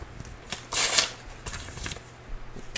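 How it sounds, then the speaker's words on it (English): Paper is torn into sheets by hand for fire starting, giving a few close ripping bursts, one loud and drawn-out near the middle, with softer rustles around it. "Tear it up into nice little sheets like that, and then you crumple it into balls"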